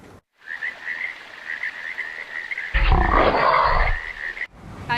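An Australian burrowing frog calls in the outback with a steady train of rapid, piping notes, fairly close, while a louder rustling burst briefly covers it midway.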